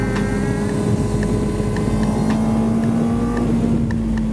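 A 2017 Benelli TNT600 motorcycle accelerates through a turn, its engine holding a steady, loud, high-pitched drone with slowly climbing tone and constant wind noise, heard from the rider's position.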